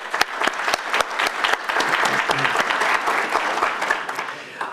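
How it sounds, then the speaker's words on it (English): An audience at a housing forum claps for panelists, with sharp individual hand claps that stand out at first and then merge into a moderate, steady round of applause. "Let's give them a round of applause."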